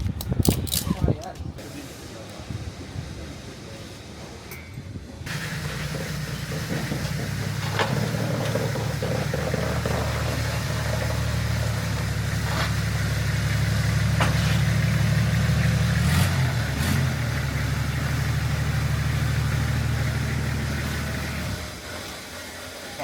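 A 4x4 TD budget tourer runs with no exhaust and no air filter: after a few seconds of handling noise its engine fires into a loud, raw, steady idle with a hissing intake. Occasional sharp clicks ring out before it stops abruptly.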